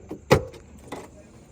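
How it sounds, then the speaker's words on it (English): The tailgate of a 2024 BMW X5 xDrive50e plug-in hybrid unlatches with a sharp clunk, followed by a brief mechanical whir and a softer second thump, close and fairly quiet. "The trunk has a tailgate that opens up as well."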